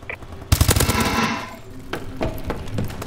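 Machine gun fire in the PS4 online shooter Call of Duty: Advanced Warfare: a loud, dense rattling burst that trails off into scattered shots and game noise, with no talk.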